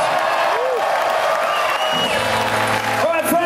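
Concert crowd at the Uptown Theater in Minneapolis applauding and cheering for a show, a loud steady wash of clapping and shouts with whoops rising above it.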